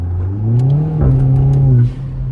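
A Kia Forte GT engine revs up steadily and holds, then drops off with a brief whoosh from a GFB Hybrid blow-off valve near the end; close and loud.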